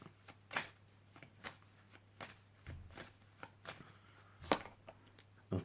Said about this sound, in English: let me pull the card out to do with health